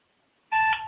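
A telephone call tone sounds: a single loud, steady electronic beep in the middle register begins abruptly partway through after near silence, just before a call is forwarded to voicemail.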